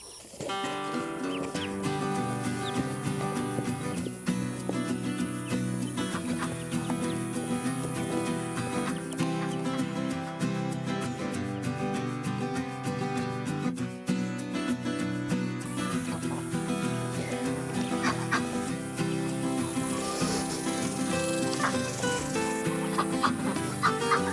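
Ducklings peep in a temporary outdoor pen built from fencing material on a homestead, making a dense, steady chorus of high chirps that holds at an even level throughout.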